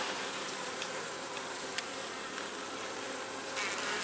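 Honey bees buzz in an open hive of a weak colony in cool weather, a faint, steady, even hum that continues without a break.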